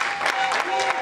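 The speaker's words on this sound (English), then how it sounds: "Can you give a big round of applause for Sister Dee Rogan?" Brief burst of applause from a crowd at a church banquet honoring a pastor, moderately loud and continuous with a faint voice underneath.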